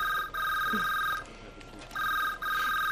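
An electronic telephone ring sounds in a French-dubbed animated film scene, with two clear warbling bursts separated by a brief pause, fairly loud over a quiet background.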